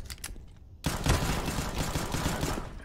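Gunfire in the video game CS:GO: a brief lull, then a loud, sustained burst of rapid shots that rattles on continuously to the end.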